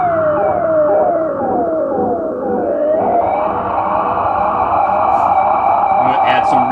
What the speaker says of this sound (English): You can hear you're gonna get a little bit of interesting noise there as it starts to feed back